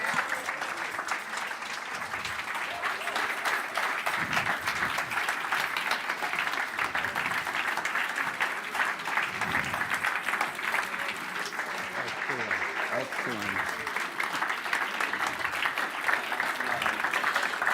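An audience at the Jewish Anti-Zionist Congress applauds the team, a sustained, dense wash of clapping that goes on steadily at moderate volume, with a few voices mixed in.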